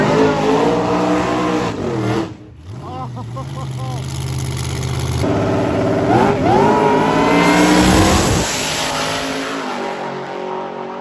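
Drag race car on an eighth-mile pass, its engine loud and close, with revving bursts and a high whining acceleration that sweeps up in pitch, over steady track noise.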